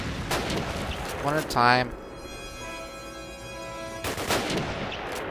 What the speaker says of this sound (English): I will shoot you all.